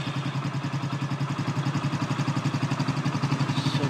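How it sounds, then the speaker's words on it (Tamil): A vehicle engine idles after a timing chain kit replacement, running steadily with an even, rapid rhythmic pulse and light mechanical clatter, close and alone. "இப்போ வண்டியோடைய சவுண்டு, இன்ஜின் நாய்ஸு வருதா எப்படி நம்ம செக் பண்ணுவோம்"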